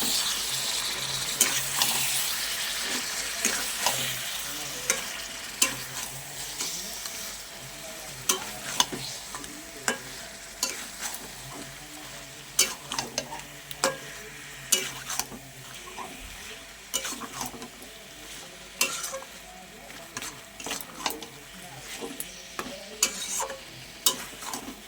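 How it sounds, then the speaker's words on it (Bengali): Meat seasoned with cumin, chili powder, turmeric and salt is stir-fried in a pan, giving a steady close sizzle with repeated scraping stirs and clinks of the spoon against the pan. "এবার চলো সুন্দর করে কষিয়ে নিই।"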